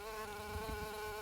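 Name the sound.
big bee buzzing among flowers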